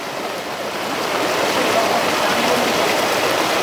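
Muddy water flushing out at a stream water source feeding a tank, a steady broadband rush of flowing water that swells slightly and holds constant throughout.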